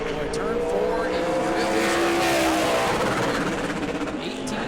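A super late model race car roars around the New Smyrna track in qualifying, a loud sustained engine note that rises and falls as the car passes. A commentator talks over it.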